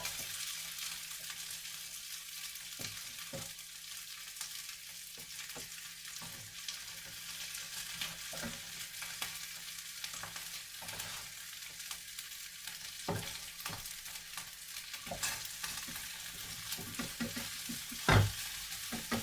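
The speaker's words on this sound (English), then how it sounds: "So just keep turning them in the pan" Quinoa meatless meatballs fry in a pan with a steady, fairly quiet sizzle while they are turned now and then, giving occasional soft scrapes and taps and one sharper knock near the end; no voices.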